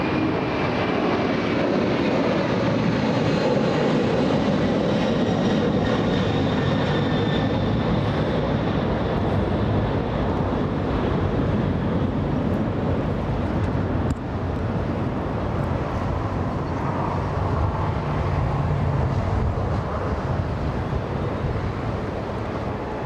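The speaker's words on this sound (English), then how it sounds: "Get ready, 747 lifting off right now." A Boeing 747 takes off at LAX with a loud, continuous engine roar and whine that holds steady throughout, close and overwhelming.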